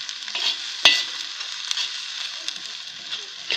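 Vegetables sizzle steadily in a hot pan, a bright continuous hiss broken by occasional stirring clicks, heard up close with no talking.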